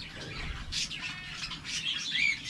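Pet parakeets kept at home chirping and squawking in bright, busy bursts, close and lively with no talk over them.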